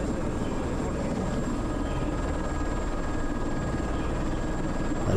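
A helicopter flies around a volcano on Réunion Island, its engine and rotors giving a loud, steady droning roar that holds unbroken throughout.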